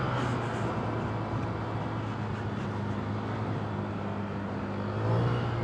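Honda Click V4 scooter engine droning steadily as it climbs uphill on a mountain road toward Mt. Kilang, a constant low hum mixed with wind rush and road noise.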